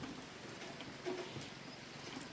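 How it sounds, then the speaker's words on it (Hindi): Steady evening rainfall, a soft continuous patter with scattered drops, heard at a distance and fairly faint, with no talking. "ये देखो बारिश आ रही है।"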